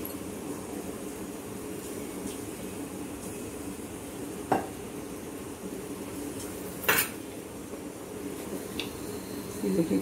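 Metal utensils and a spoon clink and scrape faintly against a pressure cooker pot while two tablespoons of oil are measured out for sambar in a home kitchen, with a few sharp clanks over a steady background hum.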